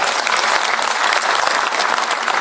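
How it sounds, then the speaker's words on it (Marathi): Loud, dense crowd applause at a political speech rally in Rahuri, Maharashtra, sustained and even throughout with no pauses, filling the whole moment without voices on top. "त्यांच्यासाठी एकदा जोरदार टाळ्या वाजवा"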